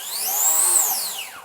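A dual-motor belt-drive RC truck running on 3 cells spins up to high RPM, a smooth rising electric whine that peaks and then winds back down, loud and close with no talking.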